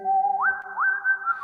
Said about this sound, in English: You hear that whistle?